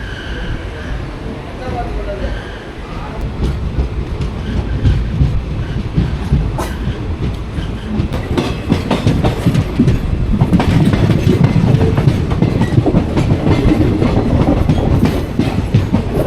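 An express train rolls along rails after leaving the station, with a loud, steady rumble and rhythmic clickety-clack that builds and stays heavy throughout, heard from on board, with a voice talking over it at times.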